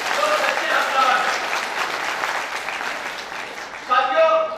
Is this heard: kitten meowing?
no